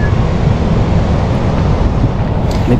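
Ocean waves wash steadily onto a white sand beach at Patar, Bolinao, a continuous broadband roar of surf mixed with wind buffeting the microphone, with no voices.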